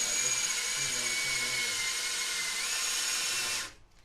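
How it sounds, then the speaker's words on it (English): A high-pitched power drill whines continuously at a steady speed for several seconds drilling metal on an Austin America engine block, then cuts off abruptly. "I just drill it"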